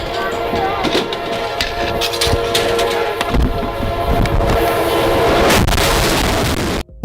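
A loud train horn blares repeatedly over the rumble of an approaching train heading for a collision with an object on the tracks, sustained and close, cutting off abruptly at the end.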